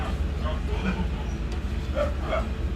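Several dogs yip and bark in short scattered bursts at a moderate distance, under steady background noise and voices.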